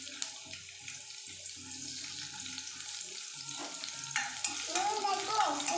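Chopped garlic frying in hot oil in a heated wok, a quiet, steady crackle and sizzle with light stirring and clinks that grows a little louder toward the end, with no speech over it.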